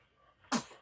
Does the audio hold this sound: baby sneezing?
yes